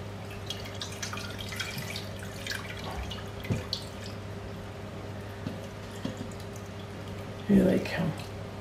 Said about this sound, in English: Now the rest of the water goes through the sieve